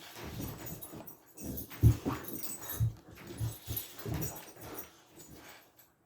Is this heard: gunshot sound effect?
no